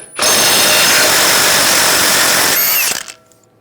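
A power tool with a 36mm socket spins a nut off during a front lower ball joint replacement on a 2011-2018 Ram 1500. It gives one loud, close, steady whirring burst of nearly three seconds, then winds down and stops.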